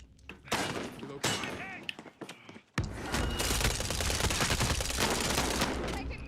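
Rapid video-game gunfire rattles in dense bursts, with scattered shots and thuds early on, then a sustained, loud barrage for the last few seconds; a voice is heard briefly under the noise.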